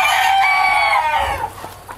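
A Serama rooster at a farm gives a loud, close crow that trails off into a few softer clucks.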